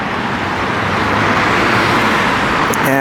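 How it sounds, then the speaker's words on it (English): A car crossing a one-lane bidirectional bridge at a traffic signal, heard as a steady, fairly loud road rumble with tyre and engine noise throughout, no talking. "the car coming from the other side of the bridge has come across"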